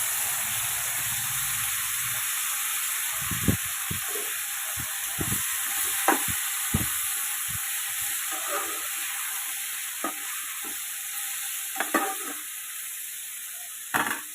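Chopped broad bean pieces frying in a pan for a Telugu-style curry with ginger and green chili, a steady sizzle with scattered scrapes and clinks as a spoon stirs them, close and moderately loud.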